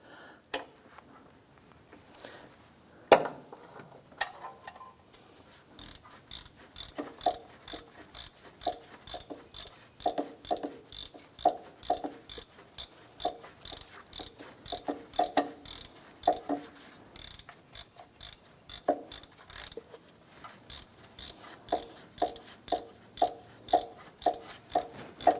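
A hand ratchet tightens the crankshaft pulley bolts on a 2001-2005 Honda Civic, clicking in quick, regular bursts that start and stop repeatedly, close up and alone after a few scattered knocks at the start.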